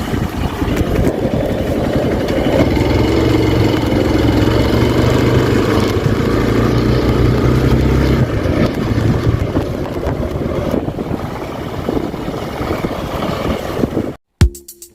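A Hero Xpulse 200 2V motorcycle engine runs nearby with a steady, loud single-cylinder drone that wavers slightly in pitch, then stops abruptly near the end.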